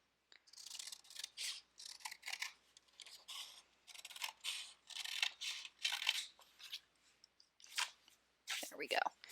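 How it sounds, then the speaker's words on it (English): Scissors cut along a folded line in paper for a collage sculpture, a run of crisp, close snips in short bursts with quiet pauses between them. "then cut along this line with my scissors"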